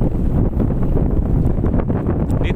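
Strong wind buffets the microphone without pause on Garza Island, a wooded coastal spot with mangroves, making a loud, steady low roar with gusty swells throughout.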